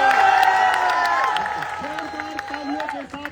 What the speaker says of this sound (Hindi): जोरदार तालियों के साथ राकेश यादव सर का स्वागत किया गया।